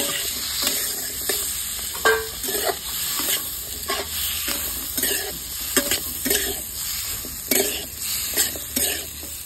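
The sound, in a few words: onion and capsicum frying in a pan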